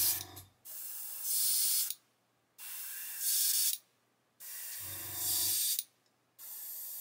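An airbrush sprays paint that is far too thick, giving several separate hissing bursts of about a second each, close and clear, with quiet gaps between them.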